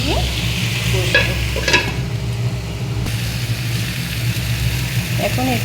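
Food sautéed and stirred in a pan, meat-style masala cooking, with a steady loud sizzle and scraping stirring strokes throughout, someone talking over it.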